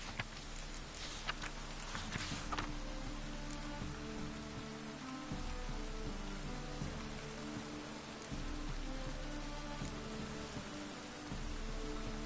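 Steady rain pours down across a city in The Witcher 3: Wild Hunt on PS5, a dense, even patter of drops on surfaces that holds for the whole stretch, with low game ambience rumbling beneath and no talk.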